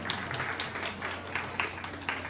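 An audience claps for the staff of a Tanishq jewellery store at a comedy event on Sinhagad Road, a steady patter of many hands throughout.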